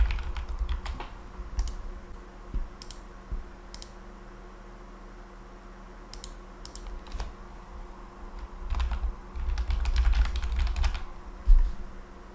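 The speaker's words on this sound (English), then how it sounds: "and then type in a message" Rapid typing on a computer keyboard, a steady run of close, crisp key clicks with brief pauses and denser bursts, heard alone without talk.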